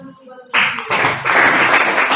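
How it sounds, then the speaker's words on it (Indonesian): A classroom of students bursts into applause for the teacher after a brief moment of near quiet, the clapping swelling quickly into a loud, busy patter that keeps going to the end. "Silakan tepuk tangan dulu buat Bu."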